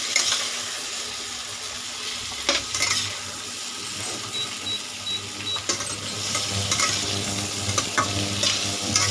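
Chicken pieces, potatoes and baby onions frying in a pan for hariyali chicken, with a steady close sizzle and repeated scraping stirs and clinks of a utensil against the pan throughout.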